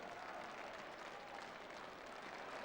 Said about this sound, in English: the Charlton team enjoying the moment by going over to milk the applause of the crowd